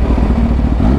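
A first-generation Kawasaki H2 motorcycle passes in heavy traffic, its deep, bass-heavy exhaust roaring loud and steady through the whole second.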